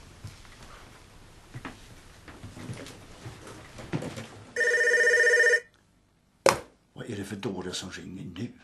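An old-style telephone bell rings in a Swedish rural TV drama from 1999, one loud, close burst of electronic trilling after muffled indoor movement, then a clunk as the receiver is picked up before a voice answers.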